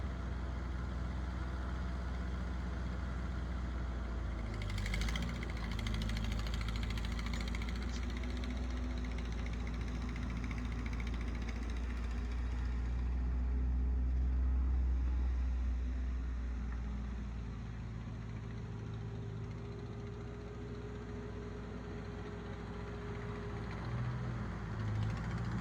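A Ford 8N tractor engine runs steadily while plowing a small garden, a continuous low rumble that swells slightly in the middle and stays at a moderate distance, with no talking.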